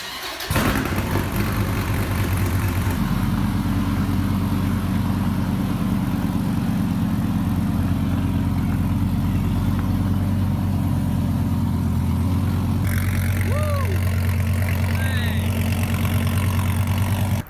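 A 2014 Dodge Viper engine fires up with a sharp start and settles into a loud, steady, rumbling idle close by, holding an even throb for the rest of the clip with a few faint higher tones near the end.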